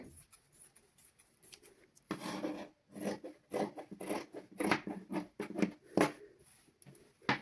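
Scissors snipping through fabric while cutting a baby summer dress pattern in a tailoring class, a run of close, quick crunching cuts in a steady rhythm, quiet at first and then louder and denser, with no talking.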